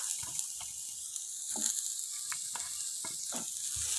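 Gram-flour dumpling balls being stirred into a simmering masala in a pan give a continuous soft sizzle, with repeated gentle scrapes of a spoon through the thick mixture, heard up close and alone.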